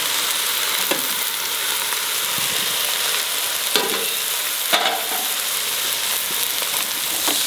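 Rice with peas and carrots fries for pulao in a pan with a continuous sizzle, while a spoon stirs and scrapes in a few distinct clanks over the steady hiss.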